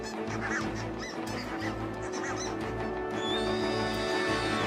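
Geese honking on the Arctic tundra, a steady chorus of repeated honks over a low wind-like rumble, with a higher drawn-out call rising near the end.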